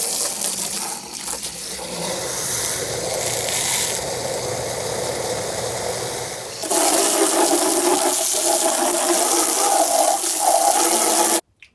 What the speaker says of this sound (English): So I know you're not really supposed to flush a fuel tank with water